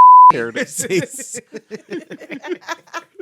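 A sharp, steady censor beep tone sounds at the start, then a person talks.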